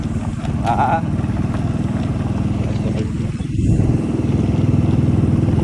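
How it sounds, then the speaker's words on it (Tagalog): A motorcycle rides over a rough, rocky off-road track of piled stones, its engine a steady, close, throbbing drone that swells slightly midway, with people talking over it. "Ito yung motor ko, gumigewang na."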